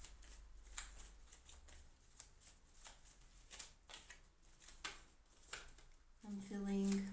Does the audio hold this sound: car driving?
no